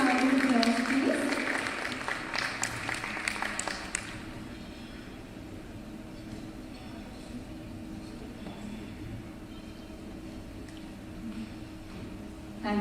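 Applause from an awards summit audience in Dubai, heard as brief clapping in the first few seconds, then fading into quieter room noise.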